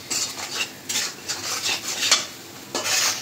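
Ground coriander, cumin and salt are stirred and fried in a pan, heard as a series of sharp, close metallic scrapes and clatters of a spoon against the pan, separated by short pauses over a faint sizzle.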